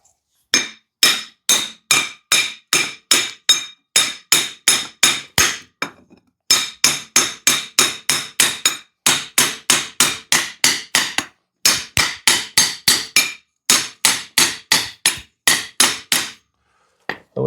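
Hammer whacks on a Honda NTV650 motorcycle frame during a cafe racer build, dozens of loud, sharp, evenly spaced metallic blows in rapid bursts with brief pauses between the groups.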